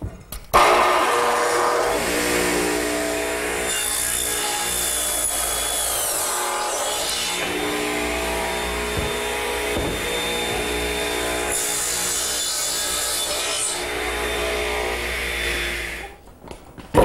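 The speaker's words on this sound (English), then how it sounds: "So I'm going to cross cut this piece roughly in half. And because it's thick, I'm going to have to cut from both sides" A saw cross cuts a thick wooden board roughly in half from both sides, a loud continuous power-tool whine with steady grinding texture, dropping away briefly near the end.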